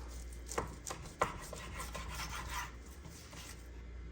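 A knife sawing a Costco beef chuck roll in half, with soft, close rasping strokes and a couple of sharper knocks against the board; no one talks.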